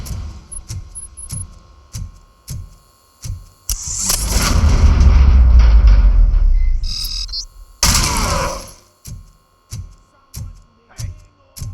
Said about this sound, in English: Hey, am I hearing gunshots?